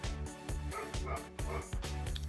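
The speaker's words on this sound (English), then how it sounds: "let's just see what Spud's barking at" A dog barks repeatedly in a steady rhythm, loud and close, with a few higher yips mixed in.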